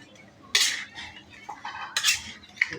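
A metal spoon stirs spices into food in a cooking pot, sending out sharp clinks and scrapes against the pot. A few louder clanks stand out at close range.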